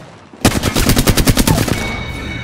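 Automatic gunfire in the battle royale video game Apex Legends, a loud rapid burst of about a dozen shots in quick rhythm, followed by a short fading tail.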